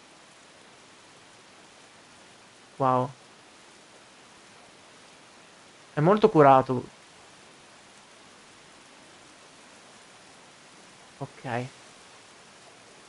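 Steady rain falls throughout a Sifu video game scene as a soft, even hiss, with a voice speaking briefly three times over it.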